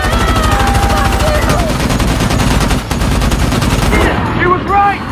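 Rapid, loud film machine-gun fire from aircraft guns shooting at a Japanese plane, sustained in dense bursts for several seconds before breaking off into a shorter final volley.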